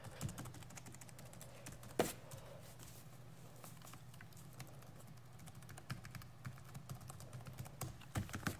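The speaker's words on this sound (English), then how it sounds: "So, you know, regular typing," Keys clattering on the keyboard of an MSI GS60 Ghost gaming laptop, a steady run of soft close clicks with a few sharper taps, under a low constant hum.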